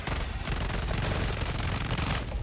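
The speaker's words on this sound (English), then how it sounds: "the Knight SMG goes crazy" A Knight SMG fires in Helldivers as one loud, dense, unbroken burst of rapid automatic shots lasting about two seconds, close and forceful.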